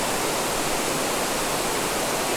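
Water falling at Elephant Falls waterfall in Meghalaya, India, a steady, dense rushing roar that stays loud and unbroken throughout.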